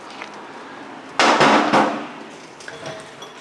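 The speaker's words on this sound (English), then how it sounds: "We actually got a smaller hammer" Sharp hammer strikes from a smaller hammer on Ford Ranger truck suspension near the lower ball joint: a loud burst of several close metallic blows, followed by a few lighter knocks.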